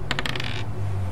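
A die rolls across a surface in a German audio let's play of a gamebook adventure: a rapid cluster of short clattering clicks for about half a second, then quiet under a low steady hum.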